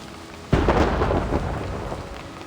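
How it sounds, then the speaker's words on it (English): A thunderstorm with rain in the game Last Evenings on Earth: a sudden loud thunder crack rolls into a rumble over steady rainfall, close and full, then fades back to the rain's hiss. "What kind of storm is this?"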